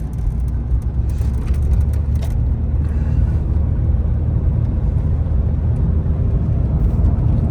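A VW Beetle with an 01M automatic transmission drives along, a steady low engine and road rumble heard from inside the cabin, loud and even with no clear shift breaks.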